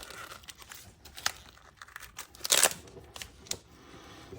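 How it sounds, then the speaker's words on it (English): Duct tape peels and crinkles off a translucent plastic armour plate in close, irregular bursts of tearing and crumpling, with one louder rip midway and quiet gaps between. "Get this tape off."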